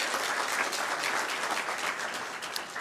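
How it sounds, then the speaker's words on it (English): An audience at a school board education awards ceremony applauds a student board member, a dense, even wash of many hands clapping that holds steady and begins to taper near the end. "Let's give him a round of applause."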